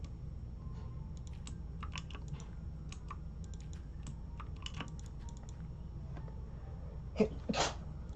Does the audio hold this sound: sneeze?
yes